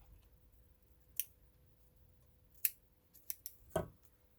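Scissors trim the edges of a small Memorydex card, giving a few separate crisp snips with quiet gaps between them and a slightly fuller cut near the end. The sound is close and soft, and no one speaks.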